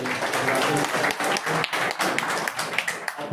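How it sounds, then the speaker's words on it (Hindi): In a legislative assembly, members break into brisk applause with sharp individual claps standing out, steady and fairly close, with no speech over it. "हम चाहते हैं पूरा सदन इनका जोरदार ताली बजा करके।"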